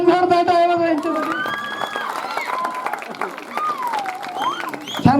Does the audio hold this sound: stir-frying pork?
no